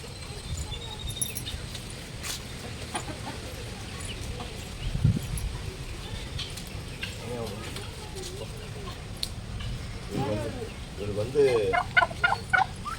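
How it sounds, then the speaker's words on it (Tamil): A male turkey with diarrhoea, kept in a home garden after Cyclone Fengal, gobbles in short rattling bursts that grow stronger toward the end, over steady background noise and faint voices. "இவர் தான் சேவல், வான்கோழி சேவல்"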